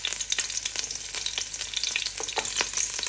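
Green chillies fry in a hot pan for turkey biryani, a steady loud sizzle with bursts of crackle and spoon stirring throughout, no voices.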